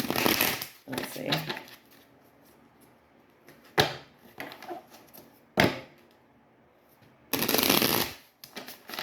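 Tarot cards being shuffled in short bursts of riffling and flicking, close and fairly loud, separated by quieter handling noises and brief gaps, with occasional talking.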